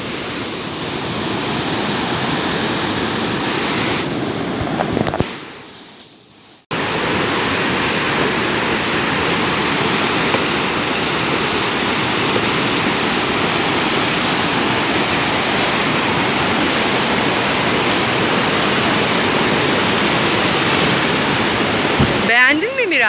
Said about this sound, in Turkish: Suyun sesi insanı dinlendiriyor,